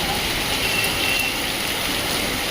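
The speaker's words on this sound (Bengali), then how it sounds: "এখন আবার বৃষ্টি শুরু হয়ে গেল" Steady rain pours down outdoors around people sheltering in place, a dense, continuous hiss of drops filling the scene with a faint low rumble underneath.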